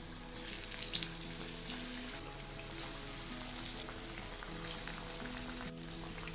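Paneer pakoras frying in hot oil, a steady, even sizzle with fine crackling bursts throughout, close and continuous with a faint low hum underneath.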